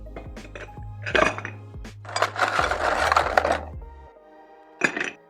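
Ice cubes clatter into a metal mixing tin for a Scotch cocktail with sweet vermouth and Angostura bitters, a few sharp clinks followed by a dense rattling pour, then a final clink after a short pause.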